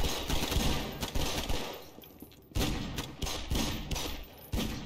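Muffled gunfire pops in a Garry's Mod battle between zombies and survivors, a steady scatter of shots and thuds at moderate distance, fairly faint, with uneven bursts and brief lulls.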